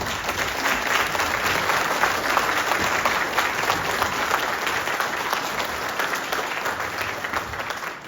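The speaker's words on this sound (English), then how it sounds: "please stand today and give a round of applause to them for their amazing work that they have done" Audience at a Hmong teachers' gathering applauding board members, a steady dense clapping that holds for the whole stretch without talk.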